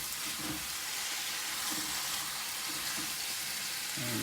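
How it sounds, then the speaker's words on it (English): Velveted chicken and fresh summer vegetables sizzle in hot oil during a stir-fry, a loud, even hiss that runs without a break, with a few soft stirring knocks underneath. "Keep it sizzling."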